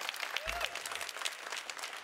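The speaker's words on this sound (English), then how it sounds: "we let everybody get away with applause for the opening statements" Studio audience at an Ontario election debate clapping after opening statements, a dense steady burst of applause filling the room, with a faint voice briefly heard under it.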